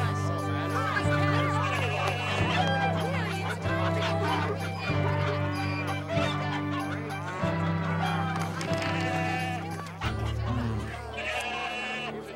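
Animal noises in a temple marketplace crowded like an animal farm, with bleating and clucking fowl heard over music and talking voices, in an animated Easter story.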